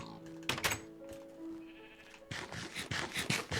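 Sheep bleating in Minecraft, Xbox 360 Edition, several close, repeated bleats with soft thuds between them and no talk.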